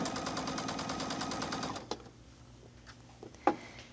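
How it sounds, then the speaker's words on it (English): A sewing machine stitches bias binding onto slippery fabric in a fast, even run lasting under two seconds, then stops, leaving a quiet hum and a couple of sharp handling clicks. "I'm going to just stitch."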